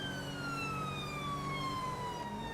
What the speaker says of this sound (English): change siren tones